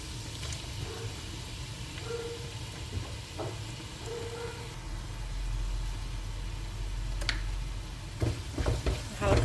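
Red spinach frying in a pan gives a soft, steady sizzle with occasional stirring scrapes and clinks, and a low rumble underneath.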